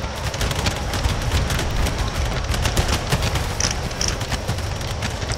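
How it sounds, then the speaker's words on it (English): Artillery and cannons fire in an Empire: Total War battle played with the Kaunitz mod, making a loud, dense, continuous roar of overlapping blasts and volleys with no voices. "And my artillery is still firing"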